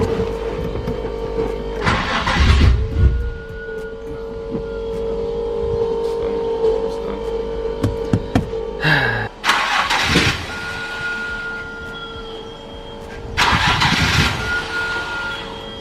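A stock turbo Nissan 350Z engine cranks in three loud bursts with quieter gaps between them, failing to fire up each time.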